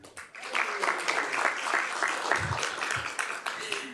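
Audience applause fills the room at a swearing-in ceremony for an Alameda County supervisor, a dense, steady clapping that lasts throughout, with a few louder thumps near the end.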